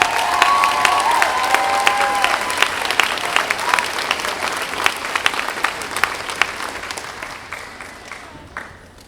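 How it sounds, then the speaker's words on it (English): A high school spring instrumental concert audience claps loudly for graduating seniors, with a few cheers early on. The dense applause gradually thins into scattered claps and fades toward the end. "So one more round of applause, please,"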